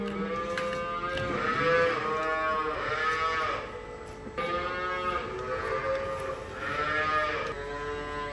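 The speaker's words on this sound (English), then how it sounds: "Those are calves in the background, by the way. Not sheep in pain. They're hungry." Hungry calves mooing in the background of a cattle barn, several long, wavering moos in a row, some overlapping, moderately loud against a constant low hum.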